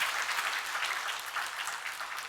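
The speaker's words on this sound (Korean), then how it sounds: "우리 큰 박수로 축복하겠습니다" A church congregation at a Thanksgiving Sunday service applauds a newly introduced member, steady dense clapping that holds at an even level for a couple of seconds without a break.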